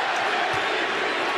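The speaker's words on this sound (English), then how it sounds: "Listen to the crowd." A basketball arena crowd roars in a continuous, loud wash of cheering and noise filling the whole moment.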